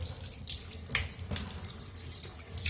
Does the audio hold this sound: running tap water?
yes